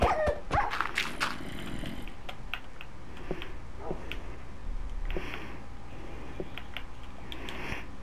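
A dog in Minecraft on PlayStation 4 barks and growls in short, sharp bursts, loud at the start and then scattered and quieter over a faint background.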